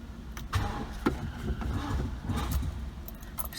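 A 1978 Honda Accord MK1 cranking over with throttle applied: a steady, near, low mechanical churn with irregular knocks and no catch, running continuously for a few seconds.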